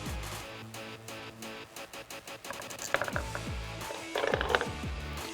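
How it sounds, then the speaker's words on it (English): A strut compressor holding a coil spring for a 2006-2022 rear-wheel-drive Dodge Charger is cranked with a ratchet, giving rapid regular clicking, then heavier metallic clanks and rattles close by in a workshop. "Now we will take our coil spring, put it back in our strut compressor."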